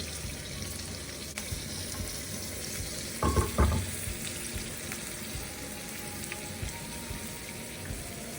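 Tempering spices sizzle in hot oil with a steady, close hiss, broken by a pair of louder crackling bursts midway.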